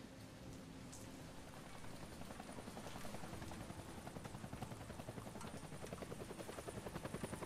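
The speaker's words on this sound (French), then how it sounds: "Alors, on entend un hélico" Helicopter in the video game Deadlight, a rapid thudding rotor pulse under a rainy hiss, growing steadily louder and more distinct as it approaches.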